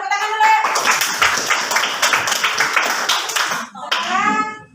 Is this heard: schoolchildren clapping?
yes